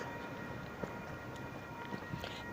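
A train passes in the distance as a faint, steady rumble and wash of noise lasting throughout, with a few soft knocks and no voices.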